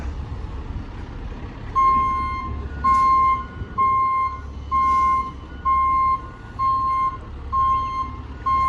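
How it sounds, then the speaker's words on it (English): A long fire truck, Ladder 27, backs up to park on a South Philadelphia street, its reversing alarm beeping loudly in a steady repeating rhythm over a low diesel engine idle. "I'm gonna allow this gentleman to park his fire truck."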